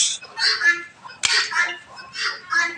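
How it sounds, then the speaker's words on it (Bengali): Several loud, harsh honking calls from nearby Chinese geese, repeated in uneven bursts with a sharp clatter in the middle. "আমাদের দেশি মুরুগ চিনার হাঁস"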